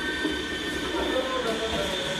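Trains rumble through the main train station in Brno, Czech Republic, a steady, fairly loud rolling roar of rail cars and wheels with a faint squeal and station hum underneath.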